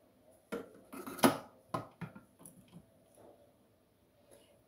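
A lid is fitted onto a Thermomix bowl: a cluster of close plastic clunks and clacks, one louder knock in the middle, then a few softer settling taps that fade into quiet.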